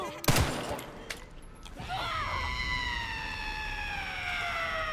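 A single gunshot cracks out early in the Resident Evil Requiem video game, a sharp loud blast followed by brief clatter, then a wavering siren-like tone rises and holds for the remaining seconds.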